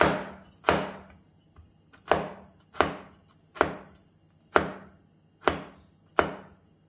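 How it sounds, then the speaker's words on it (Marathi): A knife chops cashews finely on a cutting board, about nine sharp, evenly spaced knocks, close and crisp, over quiet background hum. "आता आपण काजूला कट करूया असे दोन दोन काजू घ्यायचे आणि असे छान बारीक बारीक कट करायचे"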